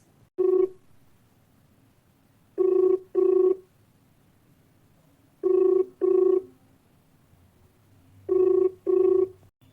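Telephone ringback tone on a connected call that goes unanswered, sounding in regular double bursts with pauses between, clear and steady against a quiet line.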